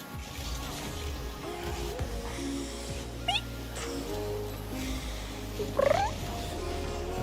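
A pet cat lets out two brief, high chirps, quiet and a little distant, over a steady low background hum in a room.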